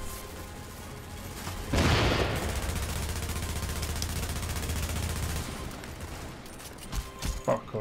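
Gunfire in The Division video game as a turret is shot down: a burst of rapid automatic shots erupts and continues as a dense crackling barrage for several seconds, fading to scattered shots near the end.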